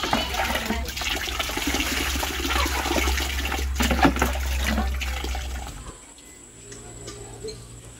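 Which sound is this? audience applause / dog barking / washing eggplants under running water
washing eggplants under running water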